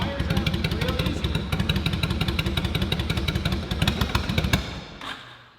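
A carbureted motorcycle engine fires up and settles into a loud, close, steady idle with rapid regular pulses, then cuts off near the end.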